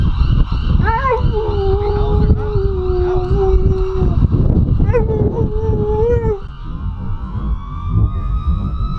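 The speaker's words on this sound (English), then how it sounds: "You want him to howl?" A pitbull-husky mix dog howls in long, wavering tones, two drawn-out howls with a short pause between, over steady background noise and murmuring.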